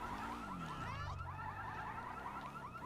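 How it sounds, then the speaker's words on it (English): Car alarm in the GTA video game, a loud, continuous electronic warbling siren that cycles steadily throughout with no talking over it. "That's a loud alarm."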